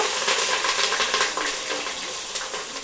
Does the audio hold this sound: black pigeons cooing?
no